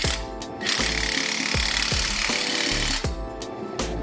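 A tool flaring the end of a thin-walled exhaust pipe for a 4th-generation Honda Prelude side exit: a loud, continuous grinding mechanical whir with repeated knocking thuds, close up, stopping briefly at the start and near the end.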